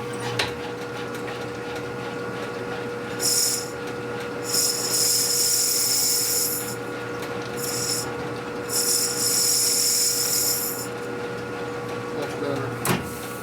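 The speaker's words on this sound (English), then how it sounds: "There's a lot of deburring going on there." Deburring metal parts on a custom Harley Evo chopper, a rigid bobber: raspy bursts of grinding or filing come in two long stretches and a few short ones, fairly close over a steady workshop hum, with brief knocks at the start and end.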